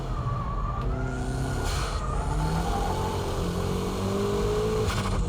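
Car sliding sideways on a wet track after the e-brake is pulled, engine note rising and falling with a whining pitch and bursts of tyre and spray noise, loud and close.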